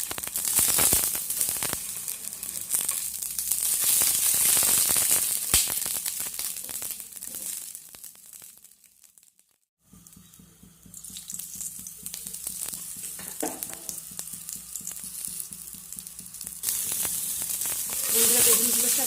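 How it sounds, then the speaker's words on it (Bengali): Brinjal sizzles and crackles in mustard oil in a kadai while the pieces are turned, frying noise with stirring and scraping, dipping briefly to near silence midway before the loud sizzle resumes. "বেগুনগুলোকে আমি উল্টে পাল্টে একটু ভালো করে ভেজে নেব।"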